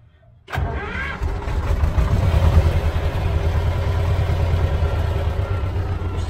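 A Bizon Rekord Z058 combine harvester engine cranks and catches after a brief silence, then settles into a steady, loud, low-pitched diesel run that continues without a break.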